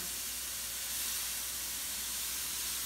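Liquid poured a little at a time into a hot pan for chicken cauliflower fried rice, giving a continuous loud steamy hiss and sizzle with no talking.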